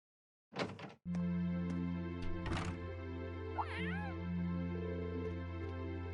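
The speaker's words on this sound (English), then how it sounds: "Was that a cat I just heard? Pretty sure it came from upstairs." In the video game Trails of Cold Steel, a cat gives a single short, faint meow from upstairs, heard over a steady humming background of game music after a few sharp knocks.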